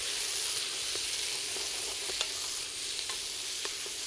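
Sliced fennel and onion sizzle in hot olive oil in a pan, a steady close hiss with scattered crackles and pops and occasional stirring sounds.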